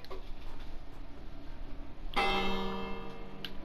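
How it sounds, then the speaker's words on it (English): A Minecraft village bell is struck once. Its bright, metallic tone rings out clearly and lingers, fading over a low ambient background with no talking. "the bell is still there"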